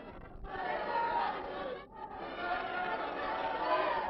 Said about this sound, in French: La foule est déchaînée maintenant contre Pelakani.